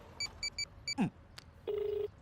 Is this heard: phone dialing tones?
yes